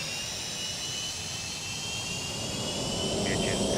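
MD-80 jet engines heard from outside the aircraft in Microsoft Flight Simulator 2024, a steady loud roar with a high whine layered on top, unbroken and close.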